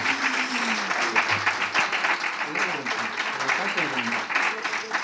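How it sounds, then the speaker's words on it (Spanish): Conference audience applauds as a gift is presented to a doctor after his lecture, a steady wash of clapping from a hall with voices talking over it throughout. "Pueden aplaudir si lo desean."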